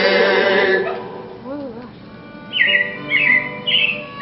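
A few bright chirps and whistled robin calls, repeated in short bursts near the end, following the fading tail of music or voice.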